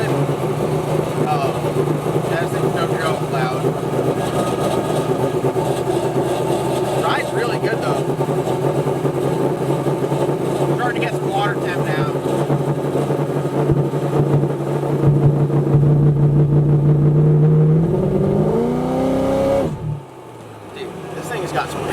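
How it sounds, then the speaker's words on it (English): A Procharger-supercharged Corvette Z06 cruising in third gear, its engine and exhaust droning loudly and steadily inside the cabin, with a brief lift in pitch near the end as it revs. "It's loud. Very loud in the cabin. Exhaust out the tailpipe."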